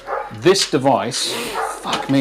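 Dogs bark in short bursts at a home with kids playing in the garden, heard behind someone talking close to the microphone.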